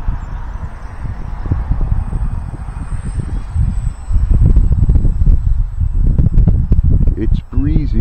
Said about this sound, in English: you can see the wind's kicking her